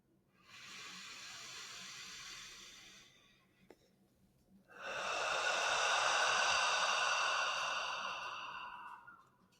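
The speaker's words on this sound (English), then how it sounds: "We're going to take a few deep breaths here." Two long, deep breaths are taken slowly, a shorter airy inhale followed by a longer, louder whooshing exhale, close and alone in a quiet room.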